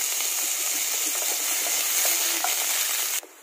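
Potatoes go into hot oil in a heated wok and sizzle loudly and continuously for about three seconds, with faint stirring clicks, before the sound cuts off abruptly.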